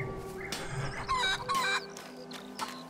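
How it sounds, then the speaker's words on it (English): A chicken clucks in the medieval game A Plague Tale: Innocence, a few short, close, clear clucks and squawks in bursts over a quiet hum. "Hey, chicken."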